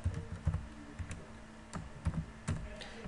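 Typing on a computer keyboard while entering an Excel function, a short run of close, crisp key taps in small irregular clusters, with no voice.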